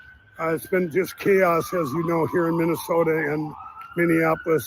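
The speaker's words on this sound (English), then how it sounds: "you can hear the sirens going off in the distance." Sirens wail in the distance in downtown Minneapolis, a faint steady tone that slowly falls in pitch while someone speaks clearly up close over it.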